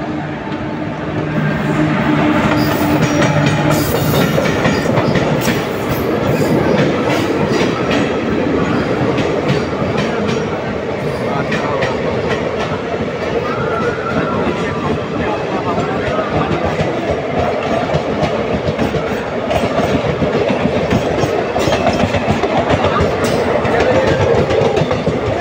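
Paharia Express LHB passenger train running on rails, with a loud, steady rumble and continuous rhythmic clickety-clack of the wheels heard from inside the coach for the whole stretch.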